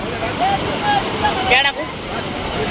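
A small waterfall at a village Dahi Handi outing gives a continuous broad rushing roar, with faint voices or whistles drifting over the water noise.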